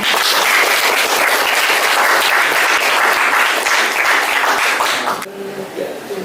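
A school crowd at SMKN 1 Miri gives loud, lively applause for the student council candidates' campaign teams, dense clapping that holds steady for about five seconds and then stops abruptly, leaving quieter room murmur.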